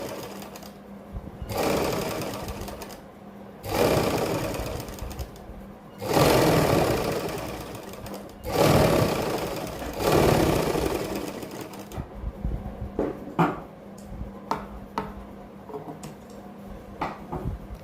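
Sewing machine stitching along the folded fabric of a kurti neck in several loud bursts of rapid whirring, separated by short pauses and quieter clicks and handling noises.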